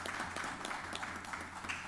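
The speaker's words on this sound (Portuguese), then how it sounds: "Todos a aplaudem." Applause fills a courtroom at the close of a judgment session, a faint, continuous patter of many hands heard from a distance with no talk over it.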